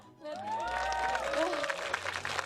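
Audience applause during a live reaction stream of a concert, a short burst of clapping and crowd noise, fairly faint, with voices mixed in.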